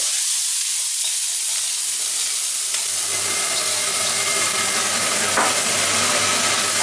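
Ginger, garlic, shallots and chili stir-fried in very hot oil for a mud crab XO sauce, a loud, steady sizzle that swells after a few seconds with faint scraping of the pan beneath.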